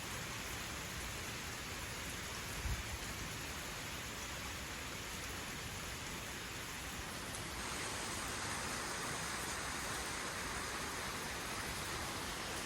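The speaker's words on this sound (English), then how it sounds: "it just started pouring down rain all of a sudden" Heavy rain pours down in a sudden downpour, a dense, steady hiss of drops hitting surfaces that holds unbroken for the whole stretch, with no voices over it.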